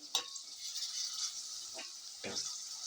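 Ginger-garlic paste fries with onions in a pan for a chicken gravy: a steady, bright sizzle with a few scraping stirs of a utensil.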